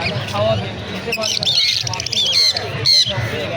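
Lory parrots give repeated sharp, loud squawks in bursts over several seconds, heard close up amid talk and background chatter at a bird market.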